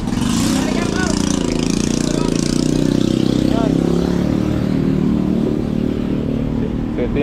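A motorcycle engine running after its carburetor was replaced, a continuous loud mid-pitched rumble that holds steady and close throughout, with a faint voice briefly audible beneath it.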